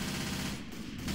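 Rapid gunfire in the video game Left 4 Dead 2, a dense, loud burst of automatic shots with a brief dip midway before resuming.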